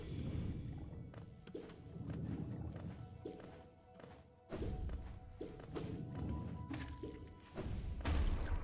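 Explosions in the video game Hollow Knight, a series of muffled thuds and crashing impacts spaced a second or so apart, quiet and low-pitched, with no talking.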